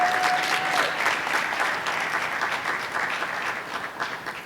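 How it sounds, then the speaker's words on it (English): Audience applause for Valerie Castile at a discussion on traffic stops and policing, a dense, steady round of clapping from a sizable crowd that holds throughout, with a brief whistle-like tone at the start. "So can we give her a round of applause for that?"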